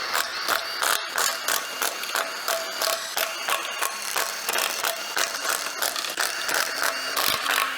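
A ratchet clicks rapidly and steadily while backing out the oil pan bolts on a Toyota GR Supra, the metallic pawl ticking close and continuous in short runs, with no talking.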